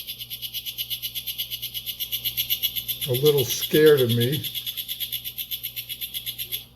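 A male cicada calls with a steady, fast pulsing buzz that throbs rhythmically and stays loud and close, while a person speaks briefly over it midway.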